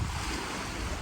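Waves wash against the Caspian Sea shore in a steady roar, mixed with wind buffeting the microphone, a short continuous burst with no voices.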